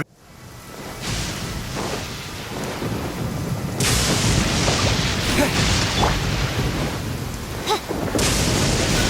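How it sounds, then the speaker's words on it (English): Heavy thunder rolls and rumbles in a Genshin Impact storm, loud and sustained with sharper cracks, over steady rain pattering down throughout. "Hark! 'Tis thundering retribution."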